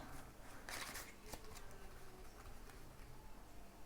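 Playing cards being handled and slid about during a card trick: a soft, steady papery rustle with a few brief louder riffles, fairly faint and close, with no talking.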